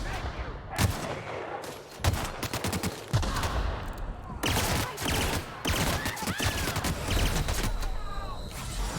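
Sniper rifle gunfire in the video game The Outer Worlds, played early on hard difficulty: repeated loud sharp shots crack out over about nine seconds amid a busy, dense game soundscape.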